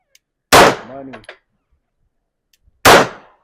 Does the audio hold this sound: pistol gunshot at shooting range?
yes